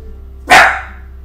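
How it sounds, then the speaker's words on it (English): A pet dog lets out a single loud, close bark that fades quickly, with a low steady hum underneath. "My dog overreacts to everything."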